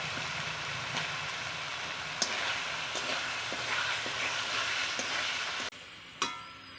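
Potatoes stir-fry in spice masala for a pangas fish curry, a steady oily sizzle broken by occasional knocks of the stirring spoon, dropping quieter near the end before a final clatter.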